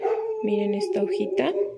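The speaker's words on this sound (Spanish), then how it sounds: "Ay, disculpen el ruido, pero aquí es imposible que esté todo en silencio. Tengo perros" Dogs barking in short bursts at home, close by and overlapping someone speaking Spanish.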